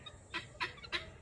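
Chickens of an unfamiliar breed near a house give three short, faint clucks in quick succession over quiet background.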